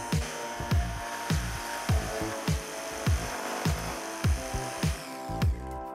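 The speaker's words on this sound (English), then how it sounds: "cut out that section of the base with the jigsaw" A jigsaw cuts a section out of an under-sink insert base in a Jayco caravan, producing a rhythmic series of close, rasping strokes about every half second. Each stroke swells and drops, and nobody speaks.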